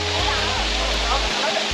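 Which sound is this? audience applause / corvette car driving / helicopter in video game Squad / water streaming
water streaming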